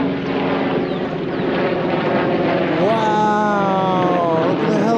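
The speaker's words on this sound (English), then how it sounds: "Look at the helicopter!" A helicopter flies overhead in Ancient City, Thailand, a steady rotor and engine roar that holds loud and close, with a rising whine that levels off partway through.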